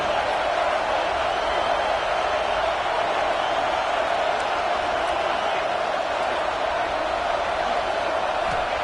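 Football stadium crowd roaring steadily behind the defense on a big third down, a loud sustained wash of cheering with no breaks.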